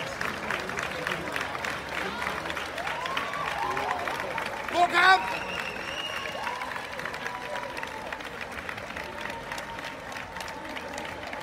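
Nurses at an outdoor union meeting outside Rigshospitalet in Copenhagen clap and cheer as colleagues join, a continuous crowd applause with babble and speech over it, swelling briefly midway.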